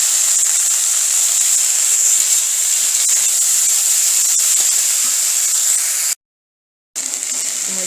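Vegetable stalks fry in oil alongside fried eggplant, giving a loud, continuous hiss that holds steady for several seconds, cuts out briefly near the end, then resumes.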